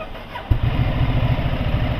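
A motorcycle engine starting up close by, a brief crank then a loud, steady low idle with an even throbbing rumble that continues without a break.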